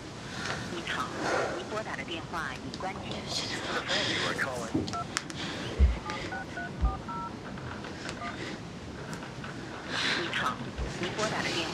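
Telephone keypad tones, a run of short evenly spaced DTMF beeps as a number is dialed during a worried attempt to reach an airline, heard over quiet room ambience with soft breathy sounds.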